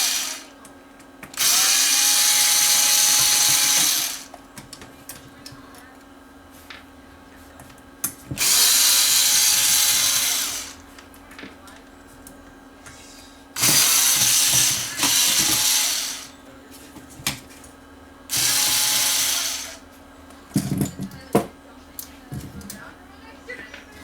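A cordless drill driver with adjustable torque drives screws out of a Sanyo DCX4000 receiver's board in four loud, sustained whirring bursts of about two to three seconds each, separated by pauses with faint handling clicks and a short rattle near the end.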